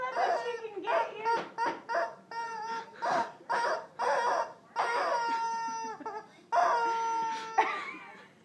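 A chicken making a run of loud, close clucks and squawks, some short and choppy and some drawn out, in quick irregular bursts across the whole stretch.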